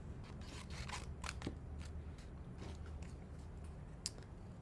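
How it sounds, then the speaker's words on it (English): Scissors fussy cutting a paper flower freehand, a quiet series of close, crisp snips at irregular intervals with one sharper click near the end. "Just need to cut out this flower."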